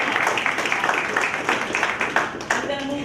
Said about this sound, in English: Let's give Philip a round of applause.